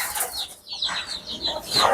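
Desi chickens on a farm cluck and chatter close by in short, broken bursts, with a brief lull midway before the clucking picks up again.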